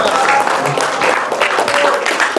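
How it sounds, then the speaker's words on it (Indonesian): Audience applause after a talk on building a service culture at a Jakarta health office training event, dense steady clapping sustained from start to finish with no pauses. "Tepuk tangan yang paling meriah sekali untuk Bapak Dr. Andri Lestari"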